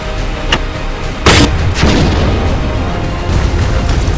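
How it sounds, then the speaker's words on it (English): Machine gun and mortar fire in a battle from the 1947 Kashmir war, with a loud burst of firing and booming detonations over a dense, rumbling wall of noise. "MMG fire खोलो। Mortar detachment 10 round तेज mortar fire।"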